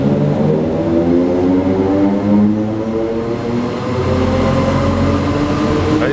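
A train pulls out of Asnières station with a deep, loud engine rumble and a steady tonal hum that stays close and continuous throughout, with no voices over it.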